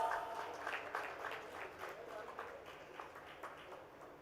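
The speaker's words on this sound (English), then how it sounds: "let's have a huge round of applause." Scattered, rhythmic clapping from a conference audience greeting speakers at a healthcare event in India, fairly soft and uneven, with a voice talking over it.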